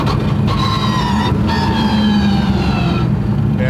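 A 1003 whp twin-turbo supercharged Mustang engine pulling hard up to 5,000 RPM, a loud continuous roar with rising whine and rapid gear-change breaks, heard close and alone.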